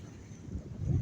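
Wind blows across an open riverbank near the Sundarbans, a steady low rumble of buffeting that swells louder toward the end, with no voices.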